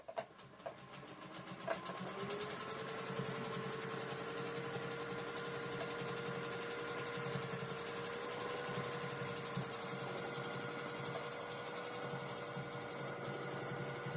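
A sewing machine on a quilt frame stitches a free-motion meander, its motor whirring and needle chattering steadily after a few brief clicks at the start, moderately quiet and close.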